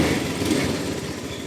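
A Honda Scoopy scooter with about 44,000 km runs at a steady, smooth idle, a continuous low engine hum held close and even throughout with no talk over it.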